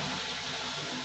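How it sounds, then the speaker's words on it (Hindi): Steady rushing water drains from an IFB front-load washing machine, a full broadband gush with a low mechanical hum beneath, close and constant throughout. "पानी निकलने का आवाज हमें आ रहा है."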